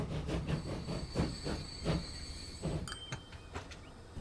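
A large train runs in the video game Transport Fever 2, rolling steadily with a rhythmic clickety-clack and a hiss, loud and close, with no voices.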